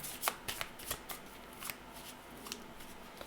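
Tarot cards shuffled by hand during a card reading, a soft riffling flutter with several brisk bursts over a few seconds, close but quiet, with no talking.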